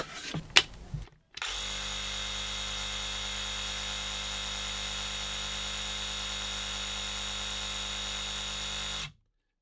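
A Ryobi power saw powered by a Ryobi 18V 4Ah battery starts after a brief click and runs at a steady, loud, even whine for about eight seconds, then cuts off abruptly.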